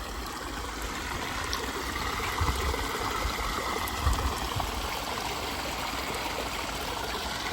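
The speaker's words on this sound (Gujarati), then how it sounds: "2 કુવાનું પાણી આવે." Water from two wells flowing along a field channel on a farm, a steady gurgling stream with soft trickles and small splashes, continuous and close, with no voices.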